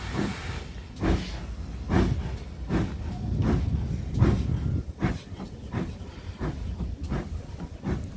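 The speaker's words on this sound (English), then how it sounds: "Olney Manor on the West Somerset Railway departing Dunster at 12:35 p.m. with a huff" Steam locomotive Olney Manor departing Dunster station on the West Somerset Railway, giving a series of loud exhaust chuffs at a steady, slowly quickening beat over a rumbling, hissing background.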